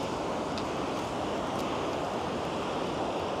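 Continuous ocean surf at Patong Beach, Phuket, Thailand, heard as a dense, steady wash of noise with wind rush and no clear break or pause, fairly faint throughout.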